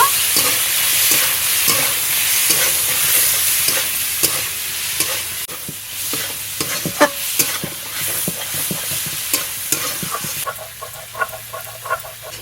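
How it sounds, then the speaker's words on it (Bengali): Prawns sizzle in hot oil in a wok, a continuous crackling hiss broken by frequent scraping and clinking of a spatula as they are stirred. "এবার আমি কড়াইতে দিয়ে দেবো"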